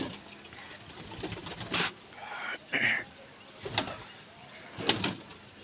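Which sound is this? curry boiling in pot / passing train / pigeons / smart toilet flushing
pigeons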